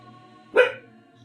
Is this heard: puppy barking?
yes